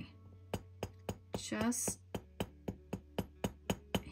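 A metal rivet on a cicada necklace is tapped gently with a hammer, about a dozen bright, evenly spaced clinks, while a person speaks briefly partway through.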